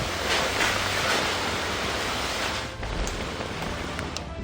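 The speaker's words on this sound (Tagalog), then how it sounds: "ganito na kalakas ang ulan at hanging dala nito sa Masbate City mula hating gabi hanggang kaninang madaling araw" Heavy typhoon rain and wind from Typhoon Opong lash Masbate City overnight, a dense continuous hiss and roar that stays loud the whole time with a slight dip near the end.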